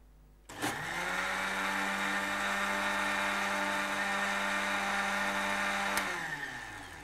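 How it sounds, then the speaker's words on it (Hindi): An electric blender starts abruptly and whirs at a steady high pitch for about five seconds, blending an apple crumble pina colada smoothie, then switches off and spins down. "इसको आप थोड़ा सा और ब्लेंड कर लीजिए।"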